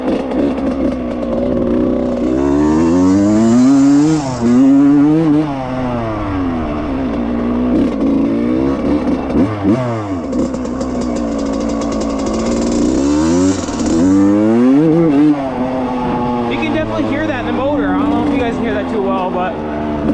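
A rebuilt 1995 Suzuki RM125 two-stroke dirt bike revs hard in repeated rising and falling bursts, loud and close, bouncing off the rev limiter at the peaks before settling back to a rough idle.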